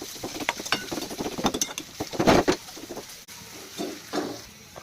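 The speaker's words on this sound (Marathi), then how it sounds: "जर कांदा हलका ब्राऊन होतपर्यंत आपण त्याला फ्राय करायचं आहे." Chopped onion frying in hot oil in a pan until light brown, a steady close sizzle and crackle broken by scraping stirs and clinks of a spoon against the pan.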